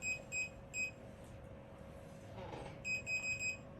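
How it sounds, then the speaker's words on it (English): A sonic scrubber facial device is switched on during a HydraFacial treatment, giving short bursts of high electronic beeping at the start and again near the end, with faint background murmur in between. "Sonic scrubber, when you're turning it on, make sure you use the handle"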